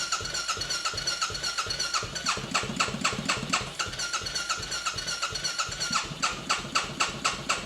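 Non-running motorbike being started while its fault is tracked down: a steady, rapid pulsing engine chatter runs the whole time at moderate loudness, with no voices.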